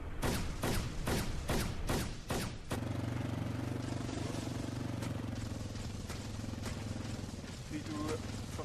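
Video game gunfire in a competitive match at an airport map: a rapid series of about seven sharp loud shots in the first three seconds, followed by a steady engine-like drone.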